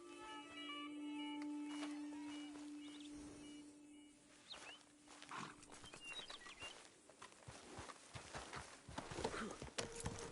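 Horse hooves clip-clopping in the Red Dead Redemption 2 video game, a steady run of light hoofbeats at moderate distance mixed with game ambience and scattered bird-like chirps, no talk.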